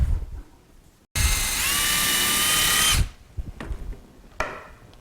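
A power drill whirs loudly for about two seconds, driving a number 5 wood screw into a wooden table saw sled, with a short, sharp burst just after and light handling clatter around it.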